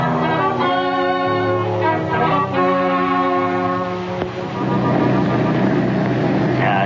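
Airplane in flight as a radio drama sound effect, a steady, loud propeller drone that holds for several seconds before giving way to a rougher, noisier rumble. Voices talk over the engine.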